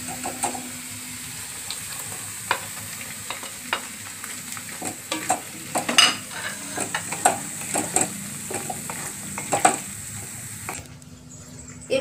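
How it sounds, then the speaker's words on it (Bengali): Fried paneer cubes are stirred into sizzling butter paneer masala in a pan, a close, steady simmering sizzle broken by irregular spoon clinks and scrapes, heard alone. "এবার ভাজা পনিরগুলো এর মধ্যে দিয়ে দিতে হবে।"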